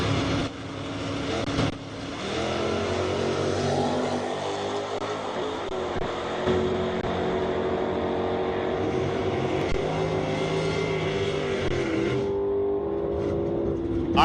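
Drag racing at Kansas International Dragway, a Ford Mustang and a 1968 Chevy Camaro on an ET bracket final, with a loud, continuous engine roar that rises and holds, then tapers near the end.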